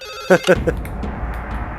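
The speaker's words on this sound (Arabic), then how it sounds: "رد على التليفون بسرعة" Telephone ringing in a tense drama scene, a couple of short bright ring bursts near the start, then fading into a low background with faint voices.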